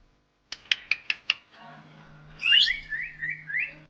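A cartoon parrot gives a quick run of five sharp chirps, then a brighter warbling whistle, loud and close, with no talk.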